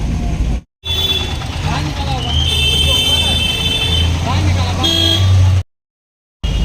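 Busy city street traffic during rain, with engines rumbling steadily, honking horns and passing vehicles, loud and close, cut by brief silent gaps, with voices in the mix.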